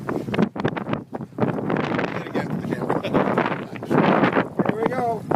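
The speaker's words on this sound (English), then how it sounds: "Hard work in this wind" Strong wind buffeting a fishing boat and rushing over the microphone in continuous gusts, with people talking throughout.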